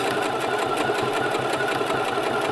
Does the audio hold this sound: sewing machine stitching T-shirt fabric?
yes